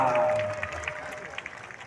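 An audience gives faint, scattered applause for a Betawi Samba mask dance performance. The light claps patter at a distance after a brief tone fades.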